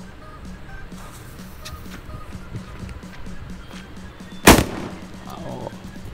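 A Diwali firecracker set off on a road cracks once in a single sharp, loud bang partway through, standing out over steady outdoor background noise.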